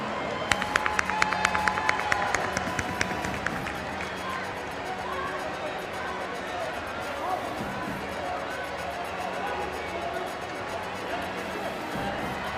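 A crowd applauds to welcome a guest at a large public ceremony, with a burst of sharp clapping early on that settles into a steady, dense roar of hands and crowd noise, with voices underneath.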